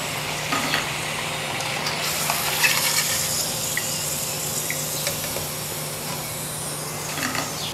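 Bread drumsticks frying in hot oil, a steady dense sizzle and bubbling that runs nearly unchanged throughout, close and moderately loud, with no talk.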